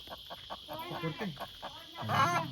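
A chicken clucks close by in a rhythmic series of short, evenly spaced clucks, ending in a louder, more agitated burst of calls.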